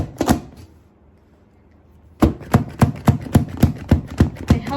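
A Temu vegetable chopper works through onion: two quick chops, a pause, then a steady run of about ten sharp, evenly spaced plunging thuds, close and loud.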